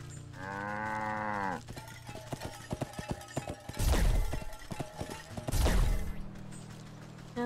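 Cow mooing in a video game while gathering cow products on a farm: one clear, close moo near the start, followed by clicky interface sounds and two louder whooshing bursts.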